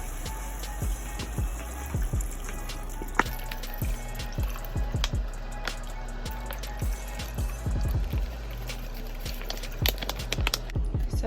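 Miso ramen broth pouring and splashing into a pot, with scattered drips and dribbles over a steady background, close and moderately loud.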